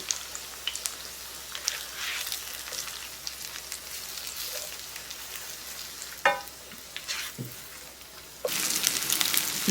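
Vegetable moong patties fry in a pan on a stove with a steady close sizzle and scattered oil pops, a brief utensil scrape near the middle, and the sizzle flaring louder toward the end, with no talking.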